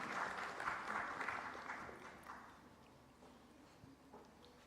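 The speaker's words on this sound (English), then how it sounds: "I request all of you to welcome sir with applause" Audience applause welcoming a speaker at a science festival session on India's nuclear energy mission, a steady wash of clapping that is loudest at the start and slowly thins out over several seconds, with no talk.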